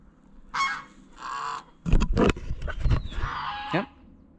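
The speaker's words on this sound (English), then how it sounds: "The geese are following me." Several loud, harsh geese honks close by, at a dairy, a few separate calls and then a burst of overlapping honking with scuffling, ending on one more drawn-out honk.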